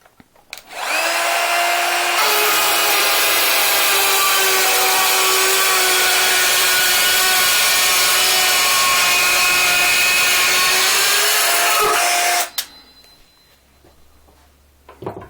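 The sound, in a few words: Bosch PKS 10.8 Li cordless circular saw cutting wood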